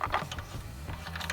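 A spray attachment is pushed onto a Ryobi 3100 PSI Honda-powered pressure washer, giving a series of close, small mechanical clicks and plastic rattles over about a second.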